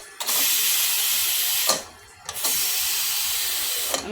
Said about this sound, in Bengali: আমি শীষটা এরকম করে বের করে দিচ্ছি তাড়াতাড়ি দেখার জন্য।